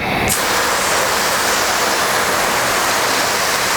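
A garden hose sprays water inside a workshop, making a loud, steady, unbroken hiss from start to finish.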